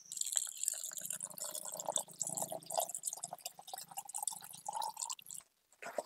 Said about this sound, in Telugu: ఇప్పుడు తగినంత వాటర్ పోసుకుందాం.